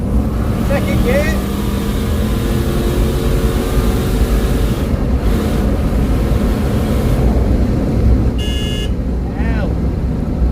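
A turbocharged Lexus LS400 car driving and shifting gears, a loud continuous engine and road roar heard from inside with brief squeaks and tones, while someone talks over it.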